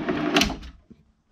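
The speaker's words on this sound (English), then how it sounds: "And then this lower drawer" Lower drawer of a sleeping and drawer system in a Toyota 5th Gen 4Runner sliding out, a close, fairly loud rolling scrape lasting under a second and ending with a soft thud, with no talk.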